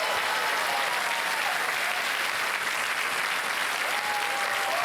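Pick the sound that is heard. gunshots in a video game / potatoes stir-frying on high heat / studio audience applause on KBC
studio audience applause on KBC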